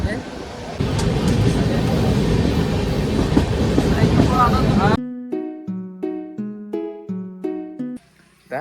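A moving passenger train runs on the rails during a journey from Bhatapara toward Nagpur, a loud continuous rumble and rattle for about five seconds before music takes over.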